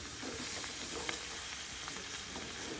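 Spiced potato and cauliflower sizzle steadily in a pan as they are stirred, a dense continuous hiss with faint scraping, close and even throughout.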